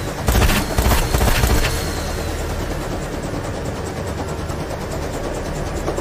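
Auto cannon fire in the Carrier Command 2 combat game: a rapid, loud burst of shots in the first two seconds, then a steady mechanical engine drone continues alone.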